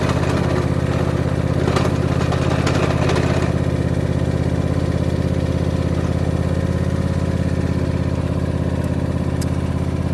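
A Stihl garden tractor with a snow plough attached runs its engine at a steady, loud, droning idle close by. Some rattling and clatter sounds briefly early on, and no one talks.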